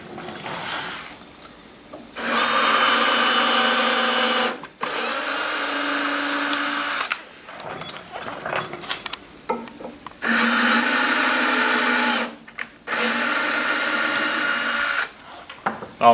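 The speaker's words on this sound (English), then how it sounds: "I'm gonna grab my drill with a drill compatible tap" A power drill driving a tap into holes whines loudly in four sustained bursts of about two to three seconds each, with brief pauses and faint handling noise between them.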